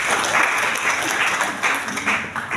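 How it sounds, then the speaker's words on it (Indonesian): A congregation at a church revival service applauds, a continuous wash of clapping from many people that swells and dips for a couple of seconds. "Tepuk tangan buat Tuhan Yesus"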